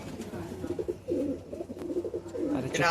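Pigeons cooing in a loft of high-flying Madrasi pigeons, repeated low rolling coos close by, with a person speaking briefly over them.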